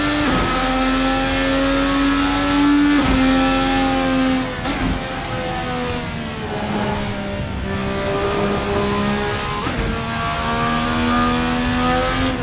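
A 1000-horsepower IndyCar engine in a racing video game screams loudly and continuously, its pitch climbing and dropping with gear shifts every few seconds on the first lap.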